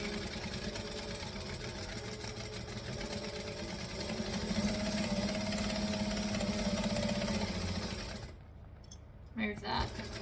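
A domestic sewing machine stitching within the seam allowance of a fabric piece, running in a continuous buzzing whir with a steady mechanical rhythm that speeds slightly in the middle, then stops abruptly, followed by a few brief handling clicks.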